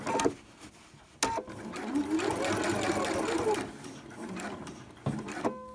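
A sewing machine stitches in a zipper on an old-fashioned dress, running in a loud, close burst of rapid mechanical chatter between brief pauses and short clicks.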